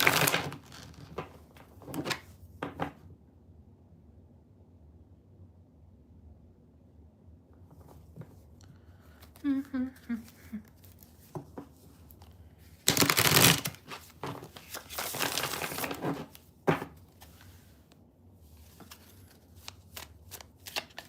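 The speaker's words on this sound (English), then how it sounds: "Let me just shuffle this." Tarot cards being shuffled during a live reading, soft riffling and slapping in several bursts with quiet gaps between them, including a louder stretch of rapid shuffling midway.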